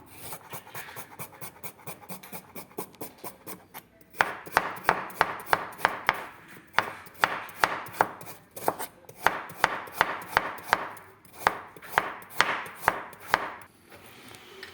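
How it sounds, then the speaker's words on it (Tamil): A knife chops carrots into small pieces quickly and rhythmically against a cutting board, bursts of sharp close taps with brief pauses between runs, no one speaking. "அதனால தான் கொஞ்சம் நம்ம சின்ன சின்ன துண்டுகளாக நறுக்கிறோம்."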